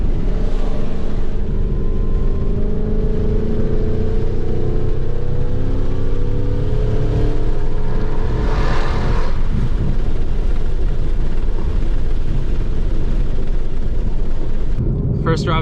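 A supercharged Ford Mustang GT on its first drive holds a loud, continuous engine drone from inside the car, with rising and falling tones as it revs and shifts, and a brief whoosh partway through.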